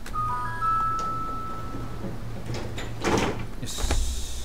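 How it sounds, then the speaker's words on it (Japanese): Tram doors slide shut in a Nagasaki Electric Tramway driving game: a faint electronic chime, then a brief hiss and a soft thud of closing doors near the end. "ドア閉まります"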